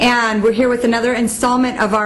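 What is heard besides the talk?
None of the usual background noises is heard.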